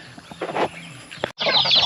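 Several turkeys calling and clucking in a short burst, close by outdoors on a farm, with brief broadband rustling or flapping near the end.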